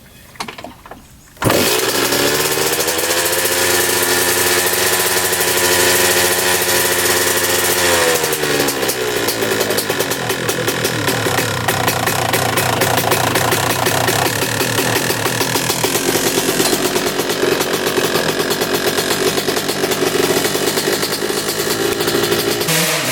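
A dirt bike engine starts up and runs steadily at close range, a loud continuous motor drone with rough, pulsing revs throughout and no talking over it.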